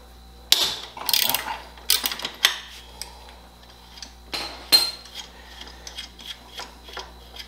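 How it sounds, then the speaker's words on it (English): A ratchet with a 12 mm socket loosens a bolt on the rear torsion bar of a 2002 Honda Rebel 250 motorcycle, giving close, sharp bursts of quick ratcheting clicks with short pauses between them and no talk. "To disconnect the torsion bar, you just need a 12 millimeter socket."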